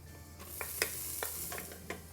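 Ginger, garlic and chopped shallots fry in oil in a multi-cooker, producing a quiet, continuous sizzle broken by a few light clicks and scrapes of stirring.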